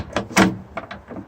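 A Yamaha Wolverine X2/X4 UTV door opens with a brief rattling clunk and latch noises, a few quick close knocks in short succession, no voices.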